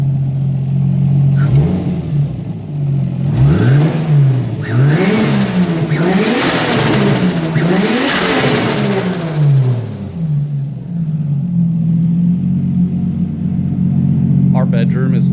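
A turbocharged Lexus IS300 engine idles close by, then revs repeatedly in rising and falling surges before settling back to a steady idle, with faint voices at the end.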